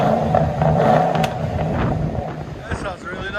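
A Ford Crown Vic 4.6L engine revs loudly through a throaty aftermarket exhaust with Flowmaster Outlaw mufflers, a steady rumble with rising and falling surges, close by.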